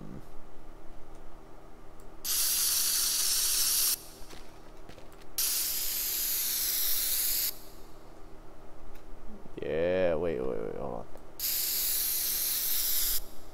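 Spray cans in the video game Teardown give three long hissing bursts of several seconds each, separated by pauses, with a short warbling tonal effect between the second and third bursts.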